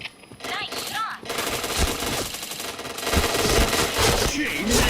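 Rapid automatic gunfire and single shots in a tactical shooter game, loud and continuous, with bursts overlapping one another and brief voice callouts mixed into the dense clatter.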